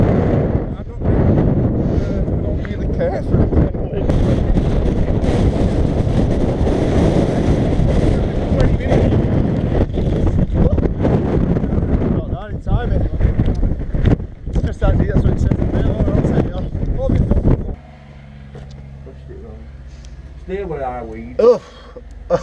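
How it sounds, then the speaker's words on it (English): Strong wind roars and buffets the microphone during a fast boat ride on open water, loud and continuous for most of the stretch before dropping away, with people talking and exclaiming near the end. "That wind helps adrenaline."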